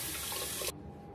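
Tap water runs steadily into a bathroom sink during face rinsing, a close broadband rush that cuts off abruptly partway through, leaving a faint room hum.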